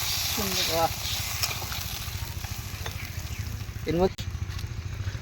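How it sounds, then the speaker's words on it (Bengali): Water is poured into masala frying in oil, raising a close, steady sizzle with a low rumbling hum underneath, while a voice speaks briefly near the start and again near the end. "এবার আমরা জল দিয়ে দেবো"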